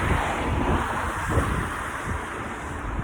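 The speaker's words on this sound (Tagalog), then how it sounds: "Grabing kusog ang hangin diri ay." A strong, cold wind blows outdoors in Germany, buffeting the microphone with a loud, continuous low rumble and gusty roar.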